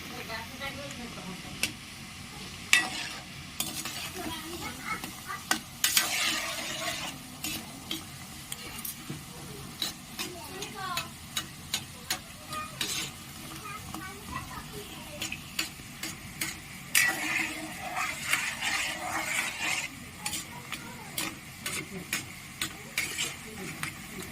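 Small goja sweets deep-frying in hot oil give a steady fine sizzle with scattered crackles and light stirring clicks throughout, fairly faint, with occasional voice in the background.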